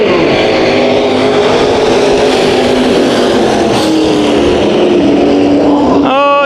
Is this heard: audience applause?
no